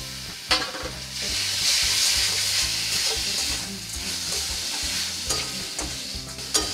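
A spatula stirs mango pulp mixed with sugar and grated coconut in a pan, scraping rhythmically over a soft continuous sizzle, close and unaccompanied by speech.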